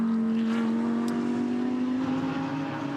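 An Aston Martin GT race car in limp mode near the end of a GT World Challenge Australia race at The Bend, its engine holding a steady, loud, even idling drone with no rise in revs.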